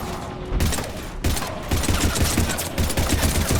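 Heavy gunfire in Mass Effect 3, loud dense bursts of rapid automatic shots close by, with brief gaps between volleys.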